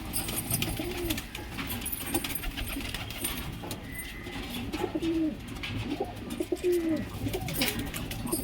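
Pigeons coo repeatedly in soft, low rolling calls near and moderately loud, several birds answering each other over a busy background of rustling and outdoor noise, no talk.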